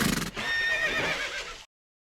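A horse whinnies loudly with shrill falling calls, over a brief clatter of hooves at the start, the storybook steed's cry cutting off abruptly into silence.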